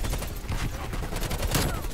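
A QBZ-83 rifle fires in Call of Duty Cold War, a steady stream of rapid automatic shots that runs loud and close for the whole stretch.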